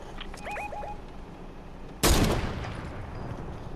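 Enemy players fire on a hill in the Fortnite video game. After some faint chirping game tones, one loud, close gunshot or blast bursts out and then fades slowly into a rumbling tail.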